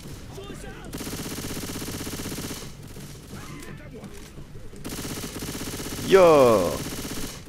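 Submachine gun fire in Left 4 Dead 2 during a tank fight, rapid bursts in two long stretches under casual talk, followed by a short sharp louder burst near the end.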